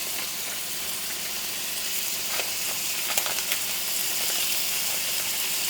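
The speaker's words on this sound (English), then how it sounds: "We should start hearing some sizzling." Steady, crackling sizzle of meat frying in a pan, a continuous hiss with scattered pops, moderately loud and close, no talking.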